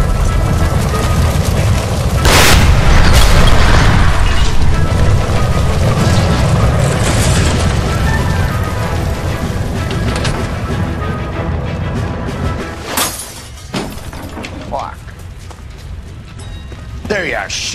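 A ruptured gas line ignites in LA Noire, with a loud roaring blast and sustained fiery rumble filling the room, sharp cracks and crashes scattered through it, and voices speaking over the din.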